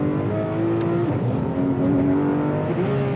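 A Porsche GT3 RS engine roars steadily at high revs on the Nürburgring Grand Prix circuit, loud and close, the pitch shifting slightly as the car shifts gears.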